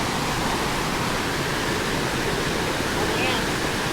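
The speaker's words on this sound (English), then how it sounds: "Wild river crossing," Rushing water of Fryingpan Creek roars steadily and loudly, a dense unbroken wash of noise like a wild river in full flow.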